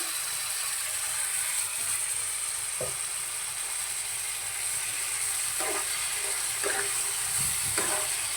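Tomato paste goes into roasted spices in a hot pan for a soybean chunk curry, setting off a steady, close sizzle of frying with a few scraping stirs, and no one talking.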